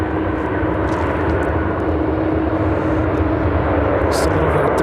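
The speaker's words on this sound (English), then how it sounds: "United Airlines 2312 coming in from Denver, Colorado on the MAX 9" United Airlines Boeing 737 MAX 9 arriving from Denver at Chicago O'Hare, its loud continuous jet engine roar running throughout with a steady low hum beneath.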